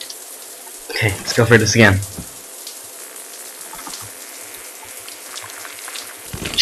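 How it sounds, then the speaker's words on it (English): Water splashes in South Park: The Stick of Truth as someone speaks over the start, followed by faint scattered drips and a louder splash at the very end. "If it splashes, it means you get a free wish."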